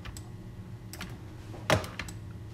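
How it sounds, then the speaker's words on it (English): A single key pressed on a computer keyboard, one short, crisp click close by over a faint background hum, with a few softer ticks around it. "So hit U on the keyboard"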